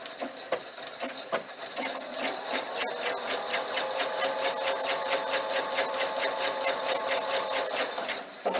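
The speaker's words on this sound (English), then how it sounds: "I'm going to put it over to my machine, and I am going to sew down that press line" Domestic sewing machine stitching down a press line on fabric for a bunny bag, running steadily and close for about eight seconds with a rapid even mechanical whir and needle clatter after a few short starting bursts.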